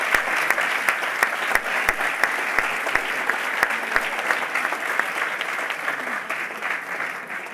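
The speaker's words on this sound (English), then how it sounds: "So again, a big round of applause for all that they've done for you." Graduation audience applauding faculty at a Glion bachelor's ceremony, a steady sustained clapping from a large crowd with sharp individual claps standing out, continuing evenly throughout and tapering slightly near the end.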